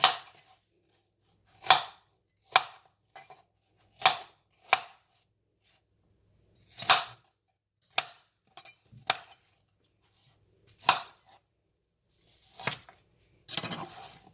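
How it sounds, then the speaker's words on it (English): A knife chops an onion into cubes on a cutting board for pan-fried chicken shashlik, about a dozen separate crisp thuds with uneven pauses, close and clear with no talk. "Now I will take the onion and we'll cut it in cubes."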